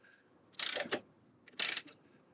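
A ratchet snugs down the handlebar bolts on a 2024 Harley-Davidson Road Glide with two short, quiet bursts of rapid clicking about a second apart, close up in a quiet garage.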